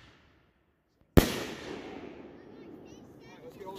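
A 5-inch mortar cake fires with one sharp, loud outdoor boom that decays into a long rumbling tail, heard alone with no talk over it.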